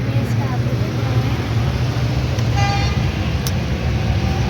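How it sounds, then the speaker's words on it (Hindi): A city street sits jammed in heavy traffic in a crowded market area, with a constant low engine rumble, a few short car horn toots rising above it, and voices faintly in the background. "हर तरफ ट्रैफिक, ब्लॉक ब्लॉक ब्लॉक"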